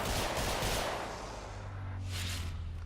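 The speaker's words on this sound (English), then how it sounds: "be able to just douse enemies and raining fire and gunshots and all sorts of other fun things" Dense, continuous gunfire and fiery bursts from Mesa in Warframe, a loud roaring barrage that washes over the whole moment with a low rumble underneath and no talking.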